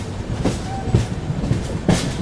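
The 12141 Patliputra SF Express runs on rails with a steady loud rumble and regular clickety-clack wheel beats roughly every half second, heard close and with no talking.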